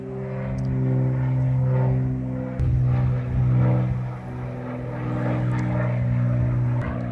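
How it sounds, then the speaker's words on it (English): A small propeller plane from a nearby flying school drones overhead, a loud steady engine hum that swells and fades slightly, with a faint tap around the middle. "apologize for the plane, guys. They do flying lessons,"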